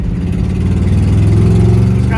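A junker V8 car's exhaust rumbles steadily as it accelerates up a curving highway on-ramp in first gear, a loud, continuous low engine drone close by, with no talking over it.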